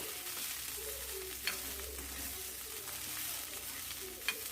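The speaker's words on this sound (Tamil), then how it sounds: "இப்போ நல்லா கிளறி விட்டுக்கலாம்" Bitter gourd fries in a pan with a soft continuous sizzle, while a couple of sharp scraping stirs stand out against the steady crackle; close, moderate level, no speech.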